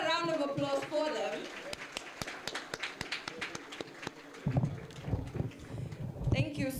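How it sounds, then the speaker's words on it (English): Claps ring out at a conference event after a performance by an entertainment group, scattered and sharp, with talk and crowd voices mixed in throughout. "A bigger round of applause for them."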